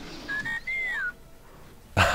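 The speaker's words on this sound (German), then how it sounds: "Hat der Hamster gerade gepfiffen?" A hamster in the video game Baldur's Gate gives a short, bright whistle with a rising and falling pitch, faint behind game background noise and followed by a brief burst of sound.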